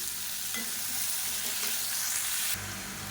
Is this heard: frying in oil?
yes